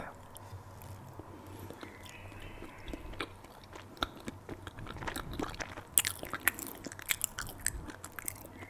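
Close-up crunchy biting and chewing of food near the microphone, irregular crisp crunches that grow denser and louder toward the end, no talking.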